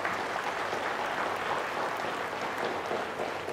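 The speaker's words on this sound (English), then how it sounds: "Let's have a round of applause for our winning team." Studio audience applauds the winning team on a tech challenge game show, a soft, steady wash of clapping heard at low volume and fairly distant, continuing evenly throughout.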